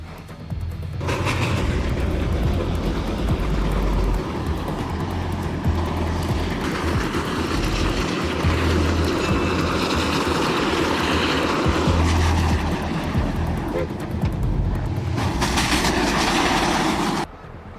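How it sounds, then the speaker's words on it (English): A snow train ploughs through several feet of packed snow in harsh winter mountains, a loud, steady rumbling roar with rattling wheel clatter that holds for about fifteen seconds before cutting off. "The train carves a path through several feet of packed snow deep in the harsh winter mountains."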